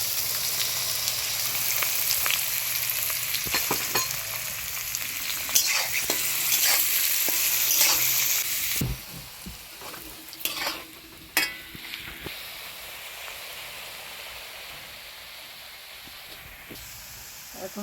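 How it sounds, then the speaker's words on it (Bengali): Carrots fry in hot ghee in a home kitchen, with a strong, bright sizzle for the first half that calms into quieter crackling, broken by scraping and clanks of a spatula stirring the pan. "আমি এখন ঘিতে গাজরগুলো ভেজে নেব। তেল গরম হয়ে গেছে, গাজরগুলো দিয়ে দিচ্ছি।"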